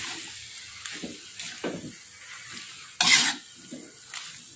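Noodles with mustard greens are stirred in a pan, giving soft scraping and clattering strokes at an irregular rhythm with a faint sizzle beneath, one sharper clatter standing out midway.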